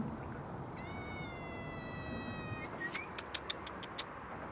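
A cat meows once in a drawn-out, wavering cry at night outdoors near a fishing spot, moderately close over steady background noise, followed by a run of sharp regular ticking clicks.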